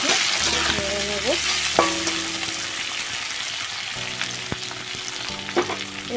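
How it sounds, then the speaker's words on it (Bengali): Cashews and raisins stirred in hot ghee in a kadai, a loud continuous sizzle with repeated scraping strokes and a steady background hum, heard up close without voices. "একটু নেড়ে নেব।"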